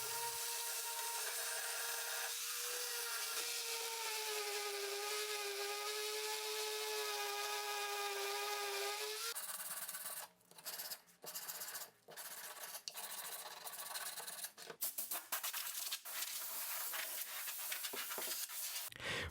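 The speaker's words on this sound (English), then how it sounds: "And a little bit of sanding." Wooden zoetrope parts are hand-sanded in a workshop, a dry rasping rub in uneven strokes with short pauses, following a steady whining tool tone at the start.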